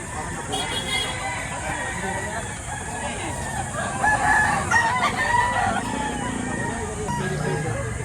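Chickens and roosters at a chicken market in Batangas cluck and crow in a busy chorus, with voices and crowd noise running underneath throughout.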